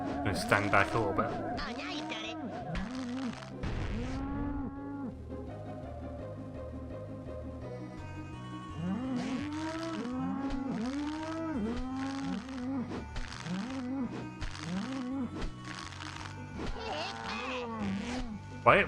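Cartoon cows in the Nintendo 64 South Park game moo over and over, with a string of drawn-out, bellowing calls mixed with game effects, at fairly loud and steady volume.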